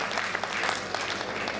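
An audience at a Hindi comic storytelling performance bursts into brief, dense clapping, a continuous bright patter lasting under two seconds.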